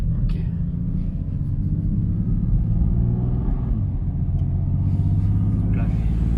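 A BMW M2 CS engine rumbles low and steady while driving, with subtle dips as gears change, and people talk over it inside the car.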